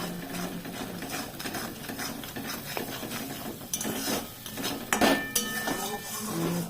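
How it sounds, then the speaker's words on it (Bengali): Rui fish stuffing with salt and spices being sautéed in a pan, heard as quiet sizzling with repeated scraping and clinking of a spatula against metal and one sharper clatter near the end. "এটা এবার একটু কষিয়ে নিচ্ছি।"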